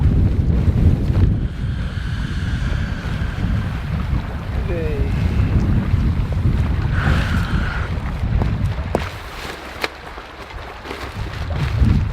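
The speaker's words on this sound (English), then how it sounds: "It's too windy." Strong wind roars continuously across the microphone in low, surging gusts on an exposed hillside in the Moffat Hills, with faint ticks and a brief distant tone rising through it.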